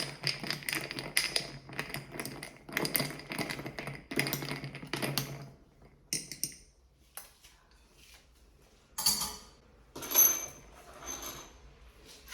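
Iced matcha drink being stirred with ice clinking and rattling in a glass, in close, irregular bursts of tapping and scraping broken by brief pauses, with no voice.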